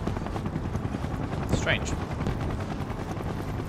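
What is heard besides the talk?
helicopters flying in video game Final Fantasy 7 Rebirth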